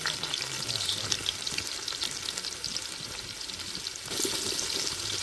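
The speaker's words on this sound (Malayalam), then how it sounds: "ചൂടായ വെളിച്ചെണ്ണയ്ക്ക് വല്യുള്ളി ഇട്ടേക്കണ" Onions frying in hot coconut oil, a steady crackling sizzle close by that holds through the whole stretch and grows a little brighter near the end, with no voices.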